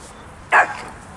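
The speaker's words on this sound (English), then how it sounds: "Who are you barking at?" A dog gives a single sharp, loud bark close by, then falls quiet against faint background noise.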